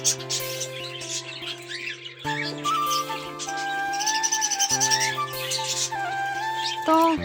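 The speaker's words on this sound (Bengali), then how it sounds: "তো দেখো পাখিগুলো কিচিরমিচির করছে খুবই।" Caged pet birds in an 18x36 cage chirp and tweet in quick bright bursts that keep coming over steady tonal sounds in the background.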